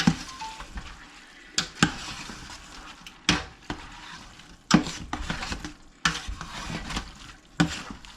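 Homemade chili with meat being stirred in a pot, a spoon scraping and clacking against the sides in a handful of sharp bursts over a steady low sizzle, close and fairly loud with no talking.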